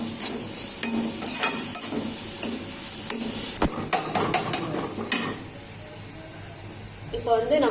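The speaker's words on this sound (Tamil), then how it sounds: "கேரட் கொஞ்சம் வதங்கட்டும்." Carrot and onion sauté in a pan with a steady sizzle and scattered scraping stir clicks, close and continuous while someone talks over it.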